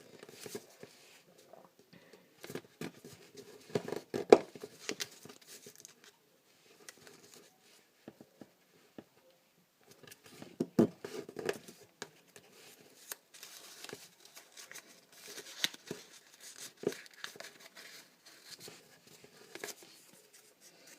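Origami paper being folded into a petal fold on a preliminary base for a dragon in flight, giving soft intermittent crinkles and creases, close and quiet, in scattered bursts with pauses between.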